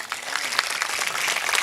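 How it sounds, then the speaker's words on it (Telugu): A church congregation claps loudly for Jesus during a sermon, a dense, steady burst of applause from many hands filling the room. "యేసయ్యకి చప్పట్లు కొట్టండి గట్టిగా"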